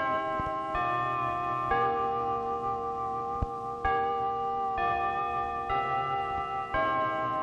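Broadcast chimes ring out as a slow series of clear, sustained bell-like tones, a new strike roughly every second with each one overlapping the last. They are loud and close, with no voices.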